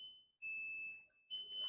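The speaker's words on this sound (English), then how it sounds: "we have a low fuel pre-alarm. It's going to be a beeping tone." A high, steady electronic low-fuel pre-alarm tone from a generator sounds in two long beeps, separated by a short gap, fairly faint, with soft background noise.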